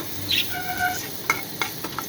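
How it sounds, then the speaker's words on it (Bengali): Ginger-garlic paste fries lightly in hot mustard oil in a pan, giving a brief, soft sizzle with a few faint stirring clicks. "সর্ষের তেলটা গরম হলে আমি আদা রসুন পেস্টটা এর মধ্যে দিয়ে হালকা ফ্রাই করে নেব।"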